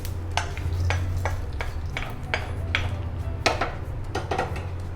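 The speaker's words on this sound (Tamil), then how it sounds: "இப்போ தனியா, தனியாவும் வறுபட்டுருது" Coriander seeds dry roasting in a pan, stirred with a utensil, giving repeated scraping and clinking strokes at a steady rhythm over a constant low hum, close and fairly loud.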